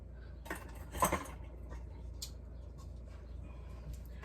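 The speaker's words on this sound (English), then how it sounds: "Okay, measuring cups and measuring spoons. Let's see what we got here." Measuring cups and spoons rattle and clink as they are handled, with a cluster of metallic clatters around the first second and scattered lighter taps afterward, close by against a steady low background hum.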